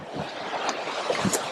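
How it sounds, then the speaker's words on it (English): Loud rushing water from a forest stream roars steadily close by, a dense continuous wash with gusty wind noise over it. "this is really loud, the water here"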